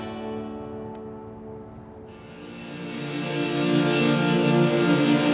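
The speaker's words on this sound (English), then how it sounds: "I processed Will's guitar, stretching it out into long-held tones, and layered these into the nature scenes." A busker's acoustic guitar, processed and stretched into long held tones, swells as a sustained layered drone that grows steadily louder, with no attack or plucking, in an echoing, effected wash.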